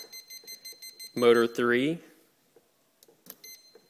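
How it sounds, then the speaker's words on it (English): A Turnigy 12A ESC on a quadcopter emits faint, thin, repeating high beeps that run before and after a man's short spoken phrase. "motor 4, and the ESC, as I mentioned, beeps constantly"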